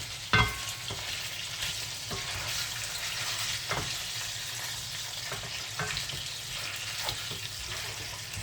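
Fresh meat frying in a pan gives a continuous close sizzle, broken by occasional stirring clanks and scrapes and a sharp clatter near the start, with no voices.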